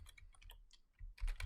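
A symbol name is typed in Adobe Animate CC on a computer keyboard, a quick run of close, crisp key clicks with a short pause before a louder final burst of keystrokes, no talking.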